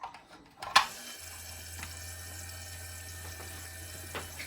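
A small liquid pump switches on in a homemade resin water feature, starting with a brief click and splash, then settling into a steady low hum with faint trickling water throughout.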